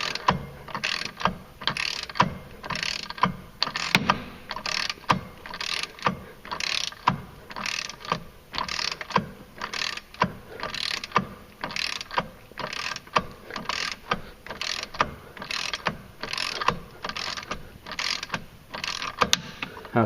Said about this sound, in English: so there we got our 15 foot-pounds.